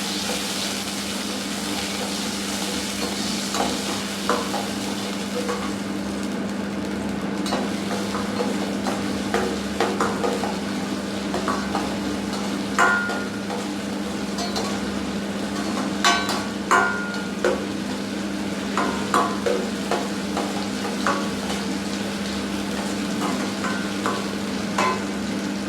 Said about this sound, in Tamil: நறுக்கி வச்சிருந்த வெங்காயத்தை ஆட் பண்ணி கோல்டன் கலர் வர வரைக்கும் நல்லா வதக்கிக்கோங்க